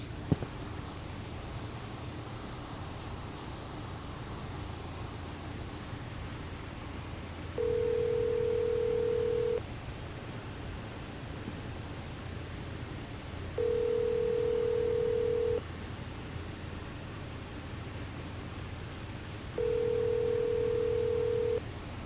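Outgoing telephone call ringing on the line, three long ring tones spaced about six seconds apart over steady hiss, with no voices.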